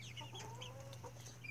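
A hen clucks close by in short, uneven bursts over a steady low background hum, with no talking.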